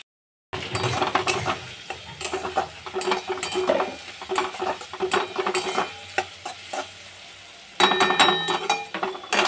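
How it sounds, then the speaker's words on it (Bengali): Onions sizzle and crackle in hot oil, with repeated scraping and clinking as a utensil stirs the pan; a brief quiet start, no talking. "এখানে পেঁয়াজটা ভাজা চলছে"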